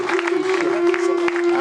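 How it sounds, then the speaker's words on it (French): At a volleyball club's partners' evening, a crowd claps for its volunteers and coaches. The applause is steady and busy, with a few louder claps, and sits under a constant loud electrical hum. "je pense qu'ils méritent aussi que vous les applaudissiez"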